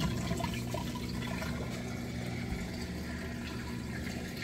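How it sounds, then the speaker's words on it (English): A Samsung washing machine draining water during its rinse cycle, a steady loud rushing and humming pump drone that continues unbroken, with no talk over it. "you can hear it draining that water out nice and fast."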